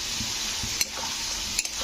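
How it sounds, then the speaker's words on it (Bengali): Ridge gourd and potato pieces stir-frying in spice paste for a Bengali jhinge aloo posto, a steady close sizzle with soft scraping stirs and two sharp utensil clicks against the pan. "ঝিঙে আর আলুটাকে এর মধ্যে দিয়ে কষে নিতে হবে"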